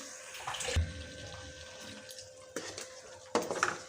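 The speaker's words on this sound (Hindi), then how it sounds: "थोड़ा सा मैं इसमें पानी डालूँगी।" Water poured from a tap or jug into a pan of masala fish curry during home cooking, giving a few short splashing bursts against a steady faint background hum.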